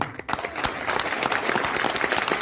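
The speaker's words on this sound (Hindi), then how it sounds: "तो तालियां तो जोर से बजनी चाहिए" Audience applause at a DXN business talk, a dense steady patter of many hands clapping that swells quickly after a brief lead-in and holds at moderate level.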